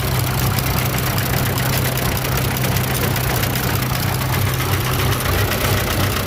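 A 1967 International 706 tractor fitted with a German 310 engine idling steadily, a loud, constant low rumble with an even knocking pulse and no talk.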